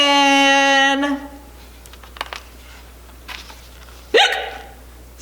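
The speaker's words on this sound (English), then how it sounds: "Oh no! Now Ruby has the hiccups." A cartoon-like hiccup sound during a children's storytime reading: a sharp, pitched hic followed by scattered quieter noises and then a second loud hiccup near the end, with no talking.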